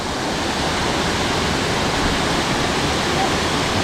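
Ramsey Cascades waterfall in the Great Smoky Mountains pours in a steady, dense rush of white noise, loud and unbroken from start to finish.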